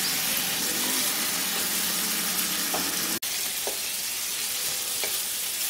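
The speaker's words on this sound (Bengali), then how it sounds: "আলুর সাথে মশলাটাকে ভালো করে একটু কষিয়ে নিচ্ছি।" Fried potatoes and spices stir-fried in oil for a thin Bengali rohu fish curry with ridge gourd: a loud, steady sizzle with occasional scraping stirs, one brief dropout midway, no talk.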